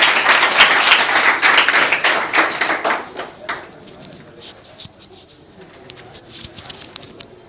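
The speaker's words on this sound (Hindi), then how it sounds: "जल्दी से इनका ताली से स्वागत किया जाए।" A classroom audience claps to welcome a student, a loud burst of applause that tapers off after about three seconds into sparse taps and faint room noise.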